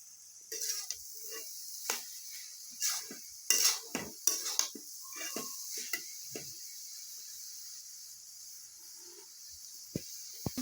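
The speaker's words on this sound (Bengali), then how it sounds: "লাউ চুকলা চিংড়ি মাছ বাইটা আলু দিয়ে ভাজি করলাম" Bottle gourd peel with shrimp and small potatoes is stir-fried in a pan under a soft, constant sizzle, broken by scattered scraping and clinking strokes of a utensil against the pan that fade to near stillness near the end.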